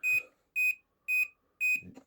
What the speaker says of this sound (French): l'équipe rouge a un bip régulier. Et l'équipe jaune, c'est beaucoup plus rapide.